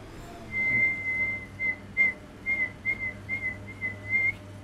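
A person whistling in short broken bursts, a thin high tone repeated several times with small gaps, fairly close and clear over a faint low hum.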